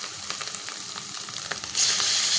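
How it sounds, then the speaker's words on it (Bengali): Chopped onions fry in a pan for a Bengali small-fish (mola) curry, giving a continuous close crackling sizzle that swells louder near the end. "পেঁয়াজ ভাজাটা বেশ মাখো মাখো হয়ে এসেছে।"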